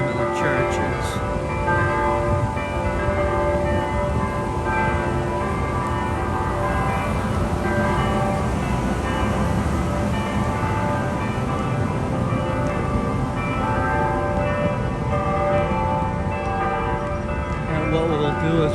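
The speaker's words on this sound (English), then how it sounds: "the chimes or bells are tolling" Church bells toll from a large, tall steeple in downtown Indianapolis, ringing loud and continuous with sustained overlapping tones over steady outdoor street ambience.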